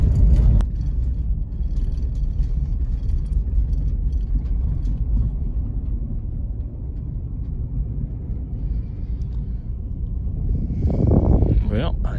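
A vehicle towing an auger down a road gives a loud, steady low rumble of engine and tire noise throughout, with someone talking over it near the end.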